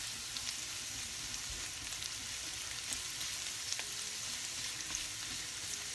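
Carrots sizzling and frying steadily in a pan as a first step toward a vegetable pasta, with faint stirring scrapes, a close continuous crackle with no talk.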